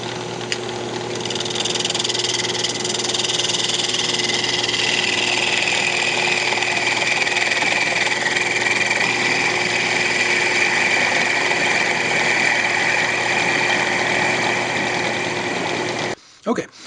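Wood lathe turning a bandsaw box while it is sanded, a steady close mechanical hum with a continuous whirring, rushing layer that holds level for the whole stretch before stopping abruptly at the end.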